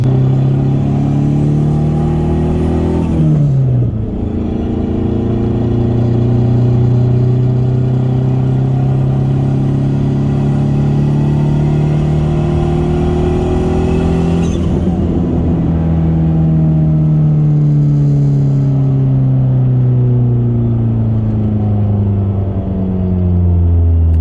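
A turbocharged car engine with a double ball bearing turbo roars loudly at high revs at full boost, climbing in pitch, briefly dropping, then pulling hard again, with a continuous rumbling growl and no talking.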